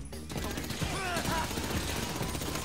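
Dense automatic gunfire during a GTA V casino heist shootout, loud and continuous after a brief quieter start, with pitch-sliding game effects layered over the shots.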